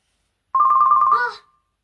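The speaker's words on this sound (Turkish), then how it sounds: "Anne beni yine arıyor." A phone rings with an incoming call: a single short electronic trill lasting about a second, loud and close, with silence before and after.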